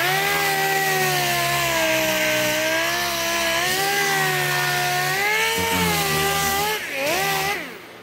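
Power sanding of body filler to feather the edges on a car dent repair, a loud continuous whine with wavering pitch that holds steady for most of the stretch before dropping off at the end.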